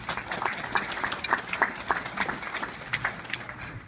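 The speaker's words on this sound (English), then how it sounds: "So a round of applause for that" Audience at an induction ceremony claps for a scholarship donation, a sparse, uneven patter of individual hand claps with a faint murmur beneath.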